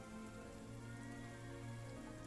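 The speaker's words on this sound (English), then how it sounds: "Yeah, it's raining. A little bit." Light rain falls steadily on a surface, a soft continuous patter with no voices over it.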